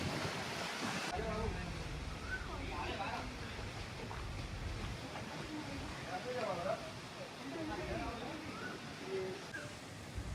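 Sea waves wash against the coast below Janjire Dharavi fort at Uttan, a continuous surf roar blended with wind gusting on the microphone, with faint voices underneath.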